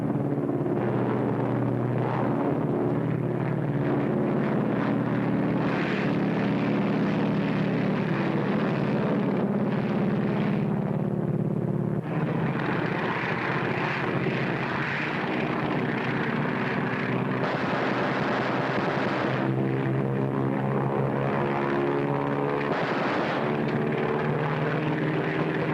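A 1943 military propeller airplane drones loudly and continuously in flight, a dense steady engine roar with shifting harmonic tones filling the whole stretch, no voices rising above it.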